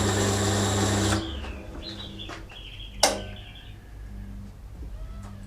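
A drill cutting 3.2 mm holes in metal parts for a workshop tapping stand, a steady machine whir that stops abruptly, followed by a sharp knock, light clinks and faint squeaky handling sounds.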